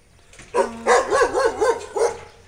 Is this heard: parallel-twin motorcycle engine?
no